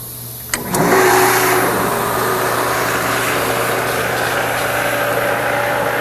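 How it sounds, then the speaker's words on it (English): A scrubber's main pump starts up with a sharp onset, then runs as a steady, loud mechanical whine with a constant low hum, alone and without talk. "So we simply start up the main pump."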